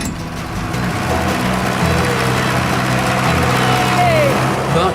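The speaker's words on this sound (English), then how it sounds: "Dick's kindly lending me his very own 1950s diesel-powered Fordson." A 1950s diesel-powered Fordson tractor runs with a steady, loud low drone throughout, its harmonic chug continuous, and a voice talks over it.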